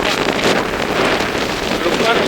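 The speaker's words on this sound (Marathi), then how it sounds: "ए यार वाऱ्यानं मोबाईल हलतोय" Wind buffets a handheld phone microphone outdoors, producing a loud, steady roar of rumbling gusts that fills the whole moment.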